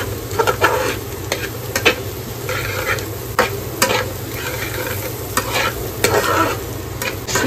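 Onion being stirred and fried in a pan with a little oil and butter, a continuous close sizzle punctuated by repeated sharp scrapes and clinks of the spatula, no talk.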